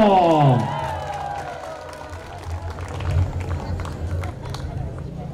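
A crowd at a Women's Day celebration applauds and cheers for the mayor's wife, steady clapping and cheering at a moderate distance, with an amplified voice ending just as it starts.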